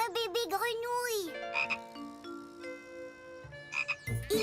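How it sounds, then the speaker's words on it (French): A baby frog croaks in a cartoon scene, bright tonal, warbling calls that rise and fall, separated by short pauses and a few soft pops. "Un bébé grenouille."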